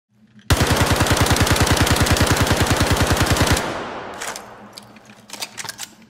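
A P4AR rifle in the Star Citizen video game fires a fast, sustained automatic burst for about three seconds, each shot punctuated by crisp mechanical cycling, followed by a metallic rattling tail and a few clicks.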